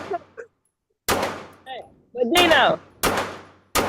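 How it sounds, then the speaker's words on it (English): Soundboard gunshot effects fire as several sharp, loud bangs with abrupt onsets, spaced apart and interleaved with short bits of men's speech. "I want to hear the gunshots."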